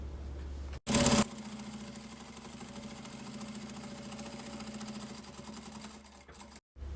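A sewing machine stitches a short seam on fabric for a small pin-up style box, its motor humming steadily with rapid stitch rhythm, a brief louder burst near the start and a stop just before the end.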